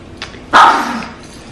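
A small pet dog lets out a faint yip and then one sharp, close, loud bark that trails off, indoors during hair bleaching.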